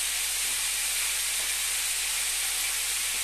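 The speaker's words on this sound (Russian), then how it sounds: "а я поставила жариться мясо" Meat frying in a pan in a home kitchen, a steady broadband sizzle and hiss that holds evenly and continuously throughout, fairly close, with no voices over it.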